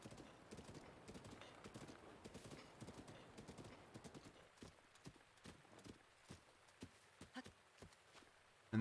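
Horse hooves clip-clop steadily on a forest path in a Zelda game, a rapid rhythmic patter over ambient game music, thinning to sparse, distinct hoofbeats in the second half.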